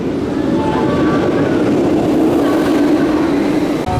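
A loud, continuous rumble of a roller coaster train rolling along its track at Busch Gardens Tampa, with a steady low roar and faint metallic whine overhead.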